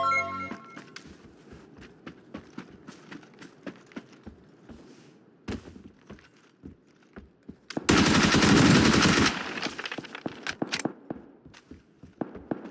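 Gunfire in the PUBG video game: scattered single shots and footstep-like clicks, then one loud sustained automatic burst lasting about a second and a half, followed by more sparse shots.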